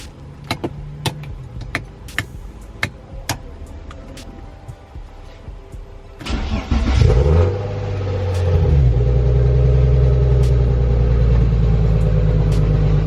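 A BMW E36 being revived on a battery charger ticks with sharp clicks, then cranks and catches into a rough, rumbling run up close, swelling louder as the revs rise and hold.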